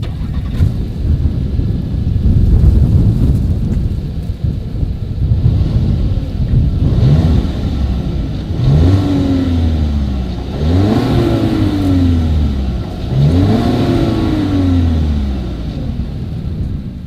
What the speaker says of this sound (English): Here is the 2020 Volkswagen Tiguan exhaust clip.